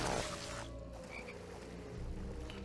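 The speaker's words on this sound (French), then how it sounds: "La course de grenouilles dans Harry Potter." Frogs croak during a frog race in the LEGO Harry Potter video game, a steady chorus of game-sound croaks after a brief louder burst at the start.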